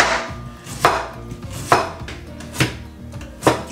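Daikon radish being chopped with a knife on a cutting board, four sharp, evenly spaced chops about a second apart, close and clear with no talking.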